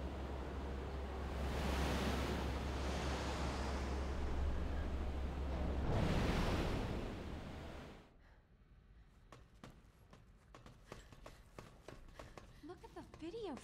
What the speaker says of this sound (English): That sluice changed the direction of the water.